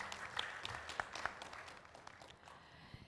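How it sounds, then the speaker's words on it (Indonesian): Applause at a village dialogue event on Indonesian village fund priorities in Maluku, a quiet patter of clapping from a small audience, slightly distant, fading toward the end. "Boleh tepuk tangan untuk kita semua."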